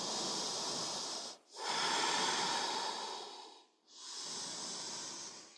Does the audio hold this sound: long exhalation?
yes